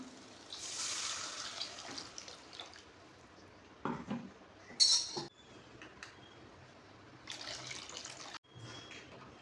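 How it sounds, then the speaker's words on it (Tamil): Rinse water from a mixer jar pours and splashes in short bursts into a cooking egg curry, faint and close, with quiet pauses between the pours. "மிக்ஸி ஜாரை கழுவி வைப்போம் இல்லையா, அந்த தண்ணியும் இதில் ஆட் பண்ணிக்கலாம்"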